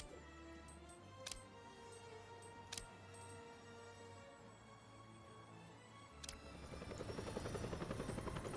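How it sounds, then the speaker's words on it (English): A helicopter in a video game drones with a steady rotor whir, joined by sharp electronic ticks and clicks, and the rotor noise swells louder toward the end as it takes off, with no speech. "There goes our helicopter."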